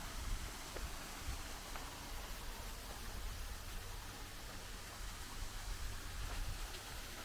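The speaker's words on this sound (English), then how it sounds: "And you've got waterfalls running through here as well." Waterfalls run through the rock garden at Chatsworth, producing a faint, steady wash of falling water that continues evenly throughout with no voices.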